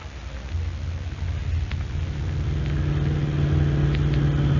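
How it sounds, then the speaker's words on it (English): A car starting and driving off as a radio drama sound effect from 1946, a low engine rumble that rises steadily and grows louder, heard alone on a muffled old recording. "Get my car out of the garage."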